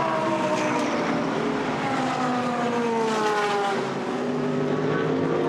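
GT race cars in a Blancpain GT Sports Club main race at Misano in 2016 blast across the finish line, loud engine roar with sweeping pitch changes as several cars pass close by in quick succession, no talk.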